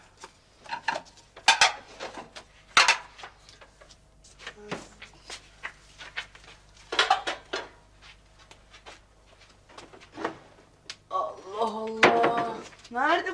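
Plates being taken out and handled in a home kitchen: scattered clinks and knocks of crockery over several seconds, with voices talking toward the end.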